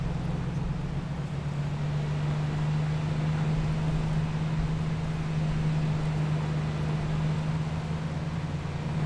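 A jeep engine running in the video game Arma 3, sounding strained as if about to blow, gives a steady droning hum with a strong low tone, constant and loud for the whole stretch with no talking.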